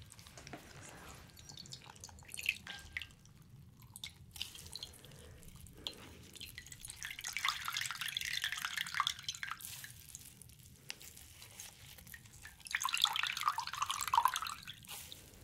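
Warm water drips from a washcloth being readied for a beard trim in a quiet grooming setting, with soft scattered drips and louder trickling bursts midway and near the end, no talking.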